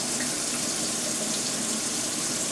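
Makeup brushes washed under a running tap, a close, loud, unbroken rush of water with no voices over it.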